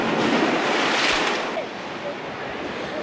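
Strong waves strike the coast at Noveleta, Cavite, a steady broad roar of surf and wind that fills the clip, easing slightly after the midpoint.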